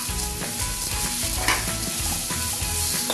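Ginger and onion fry together in a pan for fish curry with eggplant, producing a loud, close sizzle with repeated stirring scrapes and clacks of a utensil against the pan, with no voices.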